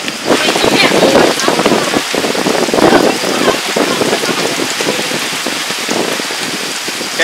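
Heavy rain pours and gusts of wind buffet the microphone at the Ema waterfall in Brazil, a loud, constant dense hiss with rattling drops and rumbling wind bursts throughout.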